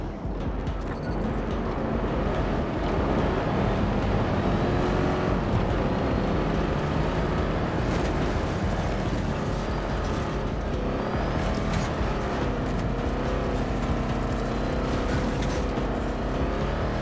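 A truck fitted with a gun drives in a video game, its engine giving a loud continuous roar with rising and falling revs that fills the whole stretch without a break.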